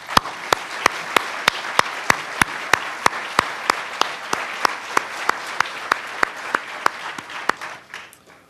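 An awards-night audience applauds at length in a steady, full wash of clapping. It is punctuated by regular sharp beats, like a camera shutter firing, before it fades near the end.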